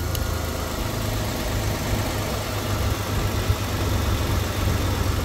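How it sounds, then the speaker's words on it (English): A Toyota Alphard/Vellfire radiator fan runs on its newly replaced motor, making a steady whirring drone with a low engine-like hum and faint vibration throughout. The sound is close and constant, and nobody speaks. "Let's just put everything back in and we'll test it out and see if the fan runs"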